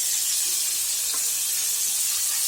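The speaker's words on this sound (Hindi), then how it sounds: "चिंगुड़ी के फ्राई कर देना हल्का हिसाब से" Prawns frying gently in a little hot oil in a kadai, a steady soft hiss and sizzle with faint crackles, even and continuous without any talk.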